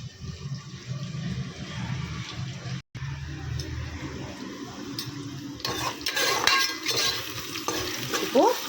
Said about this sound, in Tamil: வெங்காயம் நல்லா ப்ரௌன் கலரில் நல்லா வதங்கட்டும்